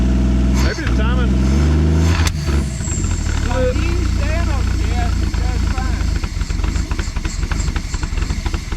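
A 1959 Edsel Ranger engine cranks and runs, a loud, steady low rumble close by, with people talking over it.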